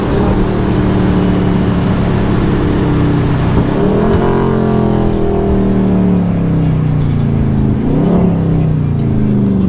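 A blacked-out Dodge Scat Pack engine revs loud and close from inside the car during a snowstorm drive, climbing and falling through gear changes at around four and eight seconds.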